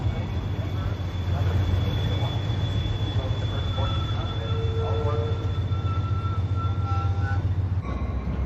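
A train at Fullerton station on the Surfline railroad, the junction of the San Bernardino and San Diego subdivisions, with a steady low rumble of rolling cars, faint wheel squeals and tonal whines, and voices in the background.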